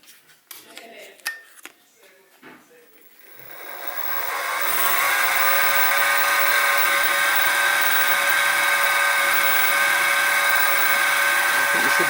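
Drill opening a 4.2mm hole partway into a steel valve rod for a Stuart 10V steam engine: a few light metallic taps and handling clicks, then a motor spins up into a steady, bright, loud whine that runs to the end.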